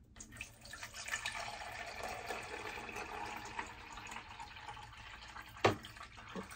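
Water poured into the top of a small household device, a steady splashing, trickling flow close by that runs throughout, ending with a sharper knock or clunk near the end.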